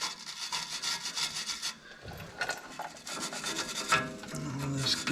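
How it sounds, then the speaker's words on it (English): Corroded, slightly rusty bolt threads on the underside of a 1974 Ford Bronco are scrubbed clean, with a steady rasping, rubbing scrape in repeated close strokes. "We're gonna clean off some of the threads."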